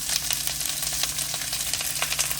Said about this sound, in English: I'm just going to saute them.